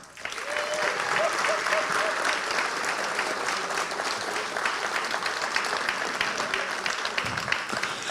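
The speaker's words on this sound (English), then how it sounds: "So they need a round of applause for that." A school ceremony audience at Mercer County Technical School breaks into sustained, loud applause for the teachers, a broad even wash of many hands clapping with faint voices and cheers mixed in throughout.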